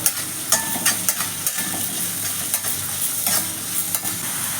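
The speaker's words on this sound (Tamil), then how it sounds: "நல்லா வணக்கி விட்டுக்குவோம்" Chopped onions sautéing in a pan, a steady sizzle with repeated scraping stirs from a spoon at a brisk rhythm, loud and close with no voices.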